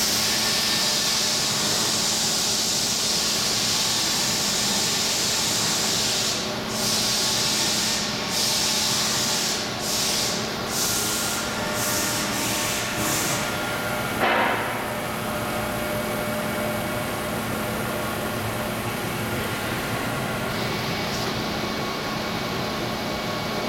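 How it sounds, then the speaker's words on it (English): A Bedrock Gen X vacuum machine moving raw material gives a steady, loud, hissing roar of rushing air with a constant mechanical hum beneath, broken by several short dips and bursts as suction cycles; no speech. "So the vacuum will pick it up, shift it over, put it down"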